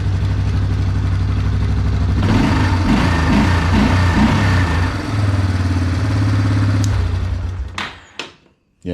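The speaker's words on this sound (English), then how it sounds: "used to have a little bog if you hammered the throttle like that. Not anymore." A 1997 Yamaha Big Bear ATV engine idling with a steady low rumble, then revved up hard and held there with a rough, raspy roar before dropping back and cutting off near the end, followed by a few clunks.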